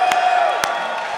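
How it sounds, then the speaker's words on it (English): A convention crowd cheers and whoops loudly in a steady roar, with a few sharp claps and thumps standing out over it. "I need y'all to cheer like it was you"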